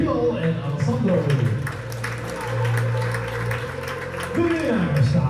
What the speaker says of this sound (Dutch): Mag een groot applaus voor Bilal en Alessandro